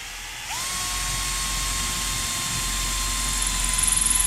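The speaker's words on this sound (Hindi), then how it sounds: "और ये 5 mm का ड्रिलिंग बिट था, तो काफ़ी आसानी से ड्रिल हो जा रही है इससे।" A Stanley drill driver running in gear 2 on a full battery bores with a 5 mm bit: a close, sustained high motor whine rises in pitch at the start, holds steady and turns slightly rougher near the end.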